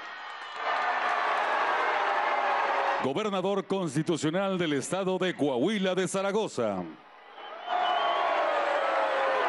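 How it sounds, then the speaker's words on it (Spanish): Crowd at a public event booing during the introduction of state governors, a sustained loud roar of jeers that dips while an announcer speaks over a loudspeaker, then swells again afterward. "Pero a la hora de la presentación, pues les tocaron sus tremendos abucheos."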